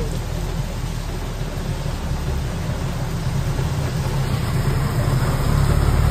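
Rain falls on a road as a dense, steady wash of hiss with a low rumble underneath, swelling slightly louder toward the end, with no voices.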